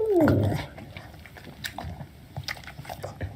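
A pet dog eating a piece of melon, with a soft vocal whine at the start followed by wet, irregular chewing and smacking close by.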